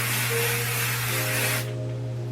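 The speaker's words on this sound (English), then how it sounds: "I spray a little bit underneath to get this little part" Sebastian Shaper Plus hairspray sprays onto hair in a steady, close, loud hiss for about a second and a half, then cuts off, leaving a quieter background hum.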